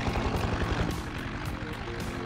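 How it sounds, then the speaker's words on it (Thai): Crop-spraying helicopter idling after landing at an orchard in Farming Simulator, a loud continuous engine and rotor drone with a rapid chopping pulse, heard alone without talk. "มันจะมีเฮลิคอปเตอร์เนี่ยเวลาจอดเขาจะเปิดรอบเดินเบานะครับ"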